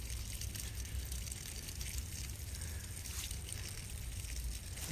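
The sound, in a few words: water draining out of an opened sprinkler valve downhill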